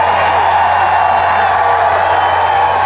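A large morning crowd at an outdoor ESPN College GameDay broadcast for BYU in October 2009, with stadium and mountains nearby, roars in a steady, dense wash of cheering and whoops that stays constant throughout.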